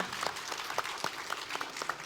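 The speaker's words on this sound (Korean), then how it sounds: "한 분씩 소개해드릴 때 큰 박수로 함께 해주시면 감사드리겠습니다" An audience at a Daegu education talk concert claps to welcome a panelist, with sparse, individually distinct handclaps over a soft background.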